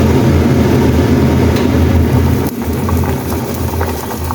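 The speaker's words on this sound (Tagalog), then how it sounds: "Pakuluan na pa natin ng pakuluan para medyo lumabas yung katas ng isda" Fish soup with egg, seasoned with stock cubes, bubbles steadily in a pot on a stove, a continuous loud rolling boil with a low rumbling roar throughout.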